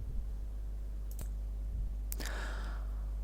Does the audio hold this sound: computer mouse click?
yes